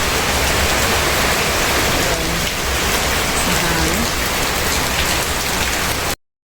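Heavy rain pours down on a farm during stormy low-pressure weather, a dense, constant hiss of drops drumming on surfaces, loud and unbroken for several seconds before cutting off abruptly.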